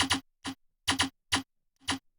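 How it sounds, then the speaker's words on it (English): A pitched-down snare sample: short, dry percussive hits in a sparse, irregular pattern, each a low, punchy thud with a tick-like attack, separated by silence. "This is again another weird like snare sound that's actually being pitched down."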